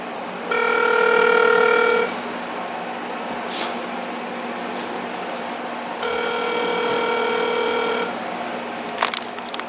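A Uniden TRU8885 cordless telephone rings indoors in two loud electronic bursts about two seconds long, separated by a steady quiet hum, with a few faint clicks.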